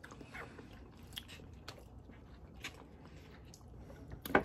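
Close, quiet bites and chewing on cooked artichoke leaves, a few soft crunchy nibbles spread across several seconds with faint mouth sounds and no speech.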